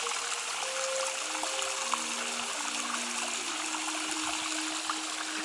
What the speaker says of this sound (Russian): Смотрите, водопадик.